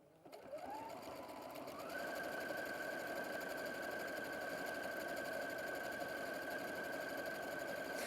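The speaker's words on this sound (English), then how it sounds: "we'll just do a quick bit of stitching along here" Sewing machine running decorative stitch 59 on a Maker's Edition model, starting up and then running as a fast, steady, even whirr with a constant high tone, close and alone, without talk.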